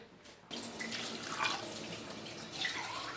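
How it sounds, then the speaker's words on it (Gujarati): Water pours steadily into a pressure cooker holding washed peas, a continuous close splashing rush that begins after a brief quiet start and runs to the end. "આપણે જોઈએ એ પ્રમાણે પાણી લેવાનું."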